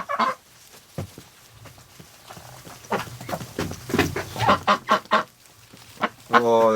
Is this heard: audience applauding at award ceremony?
no